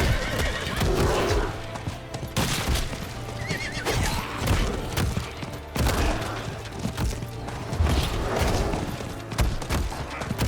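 A horse in Diablo 4 neighs loudly over galloping hooves and game effects, the whinny returning several times across a dense, busy mix.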